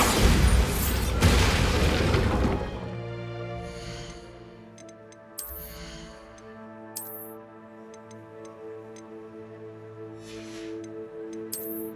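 A Bombarda spell explosion in the video game Hogwarts Legacy, with a loud booming blast at the start that settles into a sustained musical score, while brief ticking and clicking effects pop up now and then.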